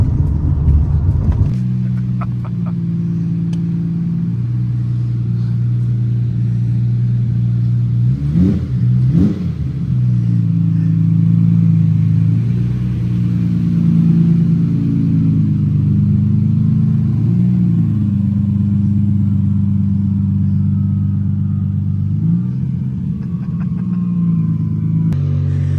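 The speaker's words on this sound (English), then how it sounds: "Listen to how bad these roads are. It's like driving on the moon." A loaded car-hauler truck rolls over a rough, bumpy road, its engine and road rumble a steady, loud low drone with a few heavier jolts midway and no talking.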